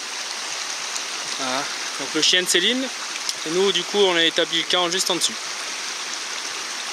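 A small mountain stream flows beside a bushcraft camp, its soft steady rush running throughout beneath someone speaking for several seconds.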